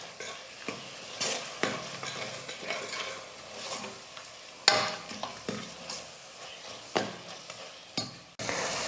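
A spoon scrapes and stirs chilli powder, coriander powder and salt into a sizzling mutton curry masala, with repeated clinking strokes against the pan over a steady close frying hiss.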